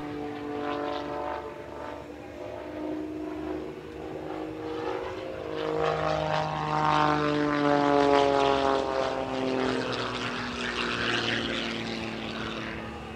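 A clipped-wing aerobatic propeller airplane with an uprated engine performing at an airshow, its strong droning buzz rising and falling in pitch as it passes, growing louder midway, with no talk.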